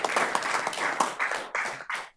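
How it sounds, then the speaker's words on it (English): Applause at a city council meeting, a spell of hand clapping from a modest room of people that fades out within a couple of seconds, with no talking over it. "Give them a clap."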